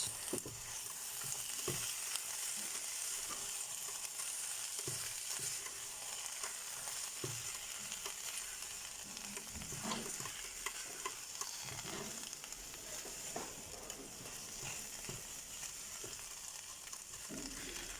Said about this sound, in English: We're going to give all that a mix.